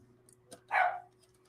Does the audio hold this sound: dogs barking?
yes